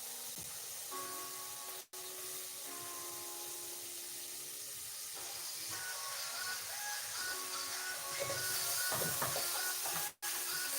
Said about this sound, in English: I'm gonna sweat my garlic and ginger.